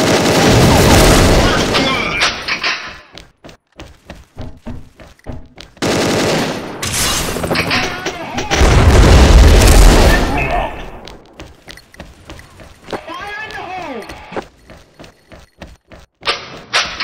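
Video game battle with loud bursts of machine-gun fire and booming bombing explosions, heavy close blasts alternating with rapid clattering volleys and short quiet gaps.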